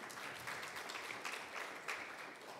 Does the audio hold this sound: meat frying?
no